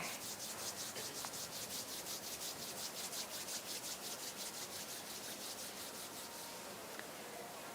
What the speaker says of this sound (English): bring the hands together at chest level and rub them gently against each other.